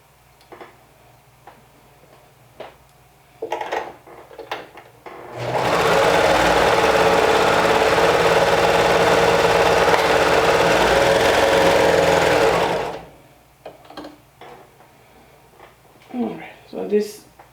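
A sewing machine stitching cardigan seams runs in one continuous loud burst for several seconds, a fast steady mechanical whir, bracketed by quieter handling clicks and brief talk.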